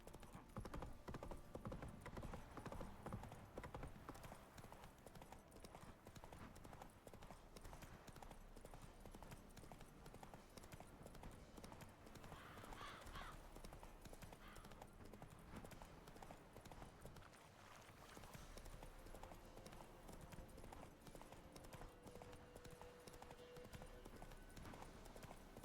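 Hooves of Roach, the horse in The Witcher 3, clip-clop in a steady rhythmic gait over a constant background wash of game ambience, fairly faint and continuous throughout.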